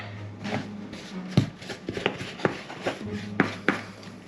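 Pizza dough kneaded by hand on a floured counter: soft, irregular thumps and slaps, close by, a few sharper knocks among steady rubbing and shuffling, with a faint low hum beneath and no talk.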